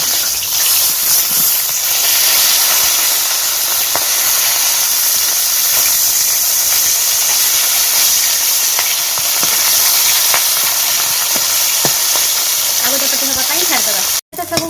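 Pieces of rohu fish fry in a pan for Odia besara, hissing and sizzling loudly and steadily at close range. Scattered crackles and pops break through the hiss, and a clatter comes near the end.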